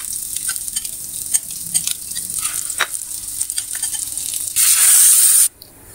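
Chicken and potato cutlets fry in a pan with a steady, close sizzle and soft crackle, ending in a brief louder hiss of oil before it quiets.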